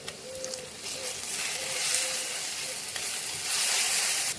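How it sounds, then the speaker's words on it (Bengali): Ground cumin sizzles and fries in a hot pan with oil, a steady broadband hiss that swells slightly over a few seconds, close and continuous with faint stirring and no talk. "মশলাটা একদম ধিমে আছে কিন্তু আমি ভাজবো।"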